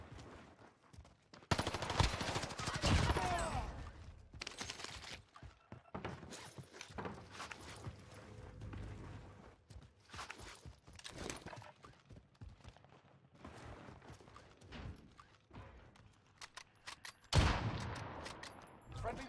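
Video-game gunfire crackles faintly in scattered bursts of automatic shots, mixed with footsteps, gear rustle and quiet voices.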